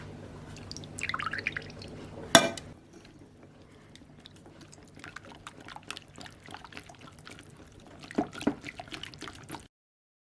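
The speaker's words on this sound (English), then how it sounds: "Whisk the eggs in another bowl. Add the buttermilk." Buttermilk is poured into whisked eggs in a bowl for scones. Soft, faint liquid pouring and dripping sounds come with a couple of light knocks of a utensil, close and quiet, with no talking.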